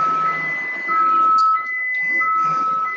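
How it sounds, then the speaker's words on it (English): Reversing beeps from a truck outside sound as three long, steady electronic tones in a repeating on-off pattern, somewhat distant over a faint background hum. "there's a truck out there."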